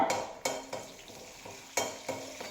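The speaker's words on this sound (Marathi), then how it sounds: "कढीपत्ता मोहरी जिरं या तेलामध्ये आपण चांगल्या प्रकारे भाजून घेत आहोत" Curry leaves, mustard seeds and cumin fry in hot oil over a high flame, crackling and sizzling close up, with repeated stirring scrapes of a utensil against the pan at an uneven rhythm.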